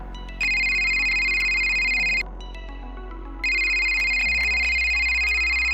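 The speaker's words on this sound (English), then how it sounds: "Phone rings." Telephone ringtone sounding loud and close in two long electronic bursts with a pause between, steady tonal ringing with no voices.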